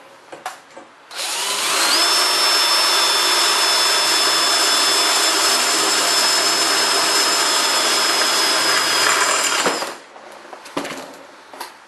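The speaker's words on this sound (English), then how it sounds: "And another sheet metal screw. I really love this impact driver." An impact driver drives sheet metal screws through a garage door tube during installation, a loud, steady, high-pitched whirring burst lasting about eight seconds, close up, with no talking.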